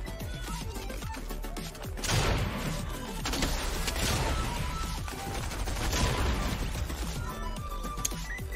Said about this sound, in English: What was that shotgun?